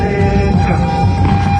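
Avant-garde music from The Residents' album Meet the Residents, a short dense stretch of layered instruments and sustained tones playing steadily and loudly on its own before cutting off abruptly.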